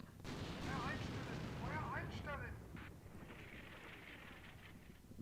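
Artillery barrages landing in the war game Combat Mission Shock Force 2 form a continuous rumbling roar of distant explosions, with someone speaking over it.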